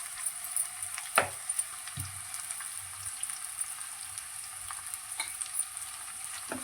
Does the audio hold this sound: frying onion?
yes